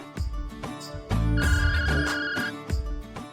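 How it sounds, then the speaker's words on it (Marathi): A mobile phone left behind rings loudly nearby, a melodic ringtone with repeating bright tones and a thumping beat playing alone for several seconds. "फोन आलाय."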